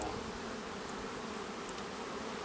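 Honey bees swarm around an open beehive during a hive inspection, their dense, steady buzzing filling the air close by with no talking.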